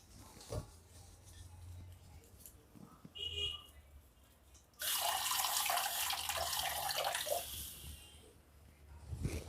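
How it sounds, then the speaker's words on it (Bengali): Plain water pours in a steady splashing rush into a pan of crab curry, following some quieter kitchen clatter. "এবার সামান্য আমি এমনি জল মিশিয়ে দেব।"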